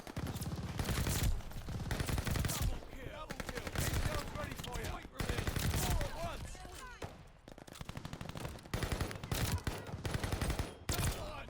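The Marco 5 SMG fires in Call of Duty in rapid automatic bursts, repeated stretches of loud gunfire separated by short pauses, with someone talking over some of the shooting.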